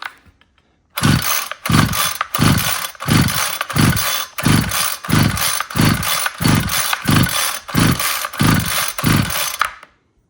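A string trimmer weedeater's small two-stroke engine is pull-started, producing about a dozen loud, evenly spaced rasping recoil pulls and sputters in a steady rhythm close by.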